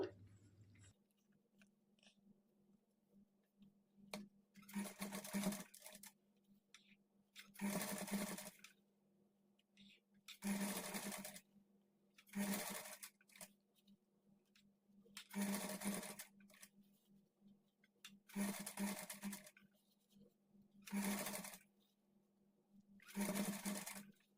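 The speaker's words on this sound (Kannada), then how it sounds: "ನೋಡಿ ಈ ಥರ ಪೈಪಿಂಗನ್ನು ಸ್ಟಿಚ್ ಮಾಡ್ಕೊಳ್ಬೇಕು" Bursts of a sewing machine stitching neck piping on a blouse, roughly ten short runs separated by pauses, each a close mechanical whirr against a faint steady hum.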